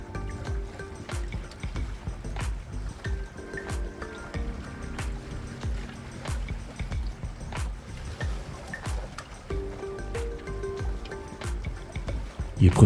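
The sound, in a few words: water splashing against a dinghy while sailing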